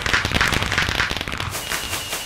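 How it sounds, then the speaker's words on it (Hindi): Diwali-style firecrackers bursting in the Minecraft video game, each one popping twice in a rapid crackling series of sharp bangs, loud and close, fading into a thinner crackle at the end. "ये दो बार फूटते हैं, ये दो बार फूट रहे, जैसे एक बार फूटेगा फिर एक बार फूटेगा"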